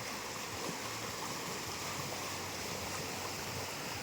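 Fast-flowing stream water on a farm rushes in a steady, dense wash of noise, continuous and fairly close, with no voices.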